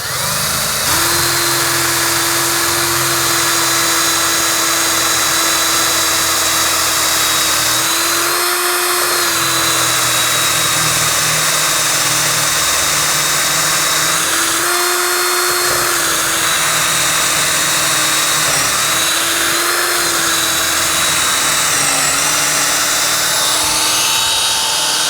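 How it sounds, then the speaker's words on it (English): Power drill boring a 5/16 inch hole through wood on a porch swing armrest, the bit overhanging a work table edge, a loud, steady whine running almost continuously with brief dips and restarts, close up, no talking. "a 5/16 inch hole. I've got the right bit here."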